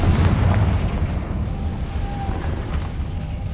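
The Confringo fire spell goes off in Hogwarts Legacy with a booming, fiery burst up front, then a rumbling tail that fades under a faint high whine.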